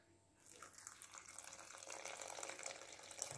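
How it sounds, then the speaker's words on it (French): Warm water trickles and splashes faintly into a bowl of brioche dough ingredients, a soft steady pour that grows slightly fuller as it goes. "Après, je mets de l'eau tiède."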